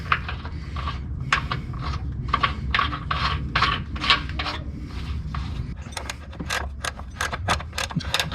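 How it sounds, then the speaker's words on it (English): A floor jack is lowered beneath the engine of a 1994–2001 Dodge Ram with the 5.2L or 5.9L V8 during engine mount work, giving close, irregular mechanical clicks and ratcheting bursts that quicken toward the end. "now we're just gonna drop the jack, and then that way that'll sit down where it needs to sit"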